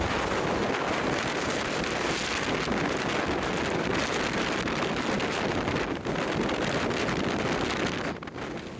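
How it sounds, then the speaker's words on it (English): Strong storm wind batters a microphone on Blackpool seafront during Storm Debi, a loud, continuous broadband roar with steady gusts and buffeting that run for nearly nine seconds, with no voices heard. "Yes, very windy day"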